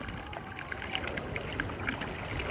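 A small child swims in water, making a soft continuous splashing and trickling close by, with faint scattered droplets and no voices.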